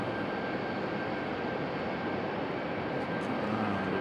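Loud, steady jet roar of an arriving airliner at Raleigh-Durham airport, broadband rumble holding throughout with a faint high whine, no talk.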